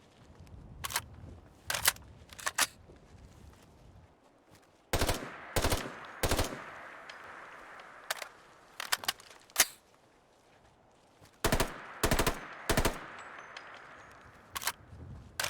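RU556 rifle in Fallout 4, fitted with a sound mod, fires in sharp bursts of quick, loud, close shots separated by short quiet gaps, with no talking.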